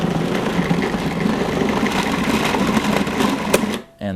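A food processor kneads strudel dough for a steady, loud whirring run of about three and a half seconds, then stops abruptly near the end.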